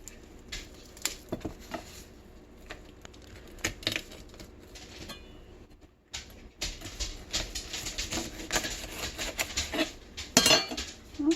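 A knife works through chicken bone while cooking chicken and dumplings: repeated clicking, scraping and clinking taps against a hard surface, irregular and close, pausing briefly midway before picking up again more busily.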